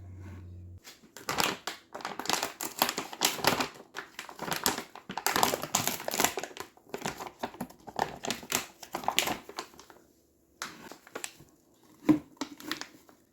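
Baking soda poured from a large 13.5-pound bag into two containers, giving bursts of grainy rustling, crinkling bag plastic and rough crunching that stop and start, with a few quiet pauses and a clunk near the end.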